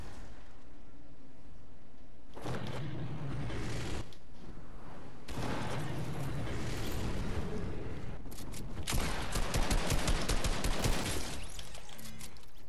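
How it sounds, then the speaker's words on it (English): Sniper rifle shots in the Fortnite video game ring out as several loud, sharp cracks amid dense game noise, with the busiest burst of fire near the end. "Oh my gosh, I just sniped him. I just no-scoped him."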